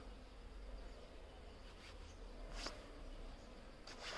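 Honeybees hum at a beehive in a continuous, low, even drone that stays close and steady throughout, with a faint rise toward the end and no voices.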